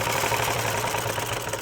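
A sewing machine back stitches a French seam with a steady, fast mechanical whirring and clatter, close up, with no talking over it.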